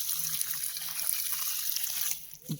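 Irrigation water flows steadily into a hillside farm field being readied for pea sowing, a soft continuous gushing and trickling heard close and alone.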